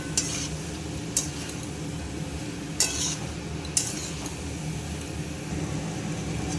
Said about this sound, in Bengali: ভালো করে মশলার সাথে কষিয়ে নিচ্ছি।